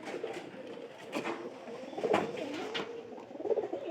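Pigeons in a pigeon house, where they are nesting with young, give soft repeated coos close by, low murmuring calls rising and falling with faint rustling between.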